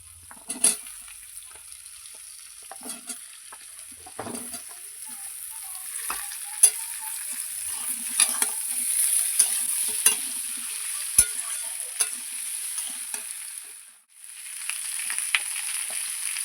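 Potatoes added to onions frying in a pan, a high steady sizzle with repeated spatula scrapes and knocks, close, briefly dipping near the end before the hiss resumes, no voices.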